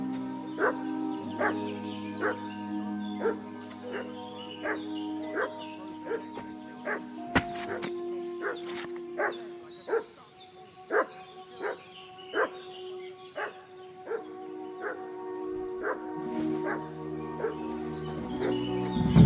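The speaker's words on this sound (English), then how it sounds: "What's that dog making such a fuss about?" A dog barks repeatedly in the Kingdom Come Deliverance 2 video game, sharp evenly spaced yaps at moderate distance over a low ambient drone, continuing for the whole stretch.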